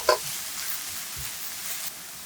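Onion, garlic and cheongyang chili stir-frying in a hot pan give a soft, even sizzle, opened by a sharp utensil clink and a few faint scraping knocks underneath.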